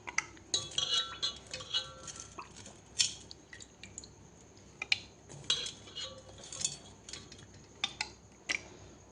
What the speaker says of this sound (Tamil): நல்லா வாஷ் பண்ணி எடுத்துருவோம்.